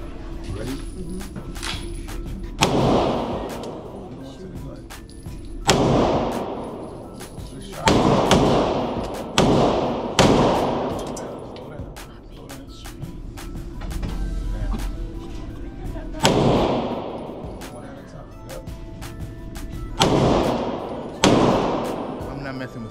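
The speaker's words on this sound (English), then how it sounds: "whenever you feel pull the trigger and hold on to the gun" Handgun shots ring out at an indoor shooting range, about seven sharp loud reports spaced a few seconds apart, each with a ringing tail, close by, among the range's background noise.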